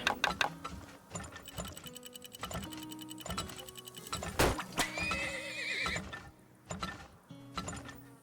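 A horse whinnies in the video game Turmoil, a clear neigh rising over a busy backdrop of ticking clockwork mechanisms and light clip-clop hooves, with repeated rhythmic mechanical clicks throughout.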